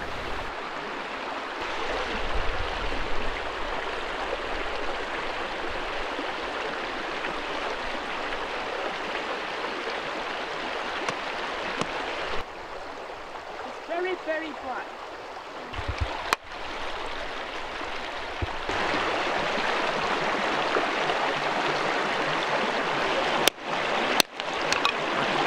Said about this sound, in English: And this stream, which you can hear, is here. It's called the Burnslack Brook.